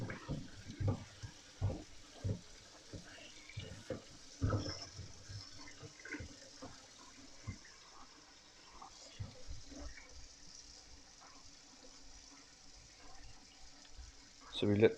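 Water from a tap splashes and trickles over mota rice for soaking, with uneven bursts of running water at close range and a louder gush near the end.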